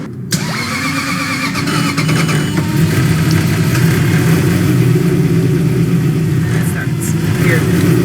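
A Toyota 2UZ V8 in a Celica with cam sensor trouble cranks briefly and catches, then holds a loud, steady, rough idle close by, with a light ticking layered over the engine drone.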